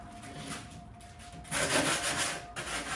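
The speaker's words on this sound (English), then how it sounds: "I'm just using a handheld sand block, and I'm using a piece of sandpaper" Hand sanding the edges of a wooden shelf with sandpaper wrapped around a handheld sand block, close rhythmic rubbing strokes that grow louder and rougher in the second half.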